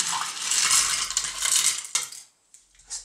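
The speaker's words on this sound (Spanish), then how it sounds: "Venga, hielo picado." Crushed ice pours into a cocktail glass for a Curaçao Valluno, a loud, close rattling clatter lasting about two seconds, followed by a pause and a few brief clinks.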